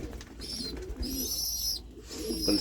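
Young pigeons coo continuously in a crowded pen, soft rolling calls layered under steady background noise with no talking.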